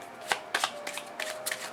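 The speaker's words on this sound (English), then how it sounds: "Just want to make sure it's thoroughly shuffled" A deck of playing cards is riffled and shuffled in several quick bursts of crisp flutter, close and fairly quiet, with short pauses between the shuffles.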